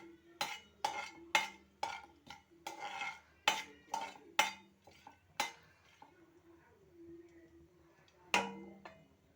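Rava being stirred in ghee with cardamom in a pan for rava laddu, a series of sharp metallic spoon clinks and scrapes against the vessel in irregular bursts, with a quiet pause before one final clink.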